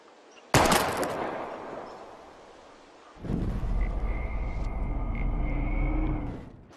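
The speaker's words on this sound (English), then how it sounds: "We're gonna shoot all these bottles without wasting a single bullet." Gunfire in the video game Life is Strange as bottles are shot at: a sharp loud shot at the start that decays, then a heavy rumbling blast with a sustained roaring tail, no speech.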